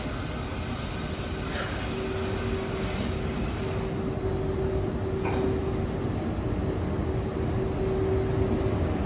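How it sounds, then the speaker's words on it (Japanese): A train arriving at platform 7 of a Japanese station, a loud continuous rumble of wheels and cars with a steady squealing tone and clanks running through. "7番線列車が到着いたします。"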